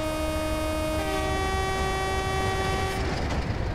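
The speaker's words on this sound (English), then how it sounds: "There is a train there! Well, of course, it is Train Simulator." A diesel train in the Train Simulator game sounds a sustained multi-tone horn that holds for about three seconds before cutting off, loud and close over the rumble of the passing train.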